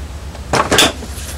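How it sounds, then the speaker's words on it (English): Plastic clack of a lever being pressed to release the door of a Dometic RV fridge, followed by the door pulling open, two or three short, loud, close knocks in quick succession. "You press in on this little lever, which releases the door."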